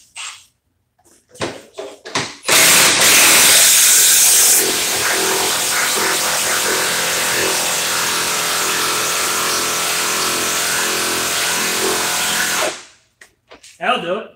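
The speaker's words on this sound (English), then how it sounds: "Do we drive the rest of these bolts down?" Cordless drill, a Milwaukee M18 Fuel Gen3 hammer drill or Ryobi 18V One+, driving bolts down from a dead stop: a loud, sustained whirring burst of about ten seconds, with brief talk and clatter before and after.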